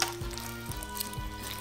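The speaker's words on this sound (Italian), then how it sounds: "Mescola adesso con le mani." Green slime squelches and churns as hands knead and mix it, with soft wet sticky sounds near and fairly quiet, a few dull squishes rising through a steady moist crackle.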